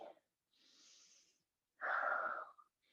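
Close, audible breathing from someone holding a yoga pose: a short exhale, a softer airy inhale, then a stronger breathy exhale with a wheezing edge, separated by silent pauses.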